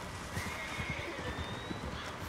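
A horse in the video game Red Dead Redemption 2 whinnies with a rising, shrill call over a quick run of clip-clopping hooves, close and clear.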